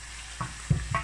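Onion frying with garlic in a seasoned pan, giving a quiet steady sizzle broken by three short bursts of stirring scrapes and louder spatters toward the end.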